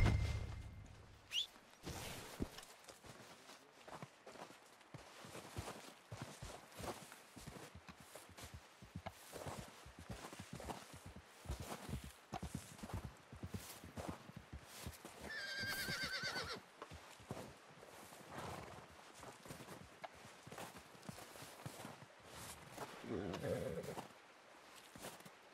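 Horses in Red Dead Redemption 2, with steady hoof clops throughout, a neigh or whinny mid-way, and faint birdsong and outdoor ambience, all fairly quiet and at a middling distance.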